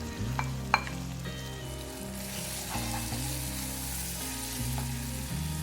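Brinjal frying and being stirred in a pan for a prawn curry, with a steady close sizzle and a few sharp clinks and scrapes from stirring over a constant low hum.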